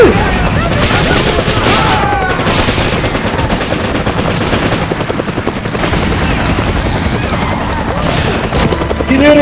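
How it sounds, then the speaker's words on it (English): Dense, continuous gunfire from the Resident Evil 5 Team Survivors multiplayer mode, with rapid bursts and booms layered throughout and no quiet gaps. "I can hear gunfire."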